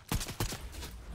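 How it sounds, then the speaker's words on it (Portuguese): Rapid burst of Fortnite gunfire, Chapter 4 Season 3, a quick fusillade of several loud close shots within about a second, heard alone. "Opa, tiro."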